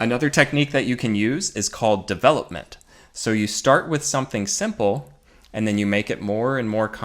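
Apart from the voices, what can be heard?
No everyday noises stand out.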